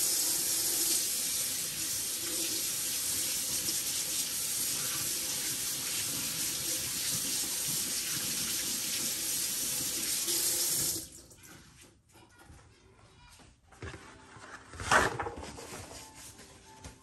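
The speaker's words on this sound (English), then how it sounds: "Wash my hands real quick." A tap runs steadily into a sink for hand washing, a loud continuous rush of water that stops abruptly, followed by quieter handling clatter and a short splash.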